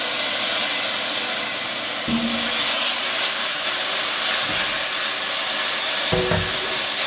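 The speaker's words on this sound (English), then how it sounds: "We're just going to cook these for about 30 seconds because we don't want that garlic to burn." Garlic frying with tender onions in a pan, a loud steady hiss of sizzling throughout with a couple of brief low scraping stirs.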